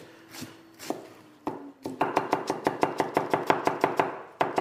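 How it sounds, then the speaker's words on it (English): A kitchen knife chops onions finely on a cutting board for a Tuscan soup: a few scattered cuts, then a steady, rapid run of crisp, close chops. "chop your onions nice and fine"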